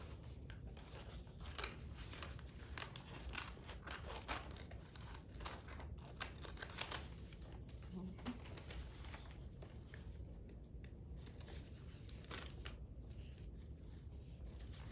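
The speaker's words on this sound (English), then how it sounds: "And then I'll cut it out of my paper, my good paper." Scissors cutting good craft paper for a bumblebee craft, faint repeated snips and paper rustling in a quiet room, close and soft.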